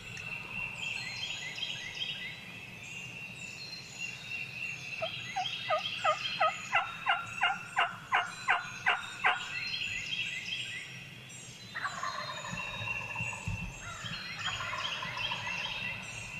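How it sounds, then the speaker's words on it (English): Wild turkeys gobble at daybreak on a spring hunt in Georgia, with a rapid rattling burst of gobbles in the middle and more calls before and after, carried over steady outdoor background noise. "we actually walked past birds that were gobbling"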